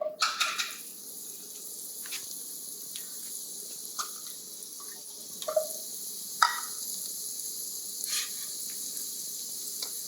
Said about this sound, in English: I'm gonna put butter and medium heat again.